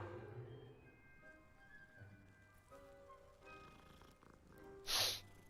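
Soft cat purring in the Hogwarts Legacy video game, low and quiet under faint game music tones, ending with a brief brighter burst.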